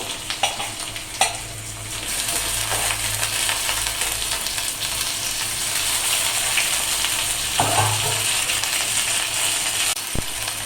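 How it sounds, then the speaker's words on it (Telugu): Washed chicken hits a pan of frying onions and ginger paste for a Telugu gongura chicken curry, giving a steady broadband sizzle with scraping, stirring clatter and a sharp knock near the end; no one speaks. "శుభ్రంగా కడిగి పెట్టుకున్న చికెన్ కూడా ఇందులో వేసేద్దాం"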